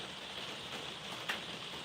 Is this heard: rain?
yes